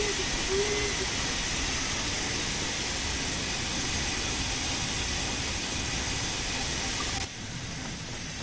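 A steam locomotive in Train Sim World 2 rolls into a station, giving a steady broadband hiss and chuffing rumble that holds evenly throughout, with a faint whistle-like tone early on.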